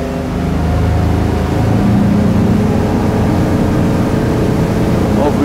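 A Sea Ray SLX 400 motorboat accelerates up to plane, its engines building into a loud, steady roar with rushing water and wind noise close by.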